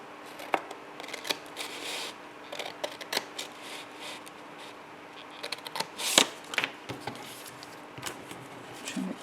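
Scissors trimming scrapbook paper, a series of crisp irregular snips and paper rustles, close and quiet, with a louder cluster of cuts partway through.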